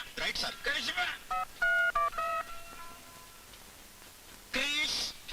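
A telephone keypad dials with a quick series of short, clear DTMF beeps, set between stretches of indoor conversation in an Indian film scene.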